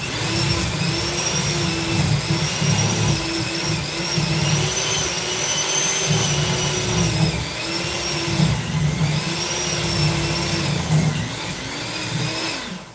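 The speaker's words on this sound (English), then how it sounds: "Start mixing this up. So push your mixer down and get right down in there." An electric hand mixer whirs steadily and loudly while it beats an egg into cheesecake batter in a bowl. The motor whine drifts up and down in pitch as the beaters are pushed through the mixture, with no talking.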